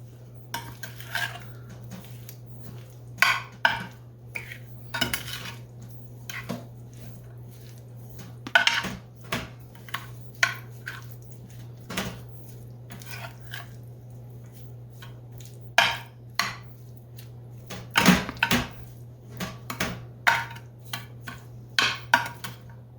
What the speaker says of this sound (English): So now all you have to do is just stir this around to combine it.